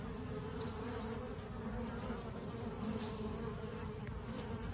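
A steady, dense drone of many honeybees buzzing together at a hive, constant and close, with no talking.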